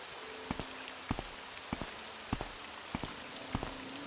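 Steady rain hisses over the whole stretch in Morrowind (OpenMW), broken by soft, evenly spaced thuds like footsteps, about one every half second, with no voices.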